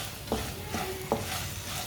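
Red chilli powder and turmeric cooking in a pan, a soft continuous sizzle broken by three distinct scrapes or taps of a spoon against the pan, close and fairly quiet.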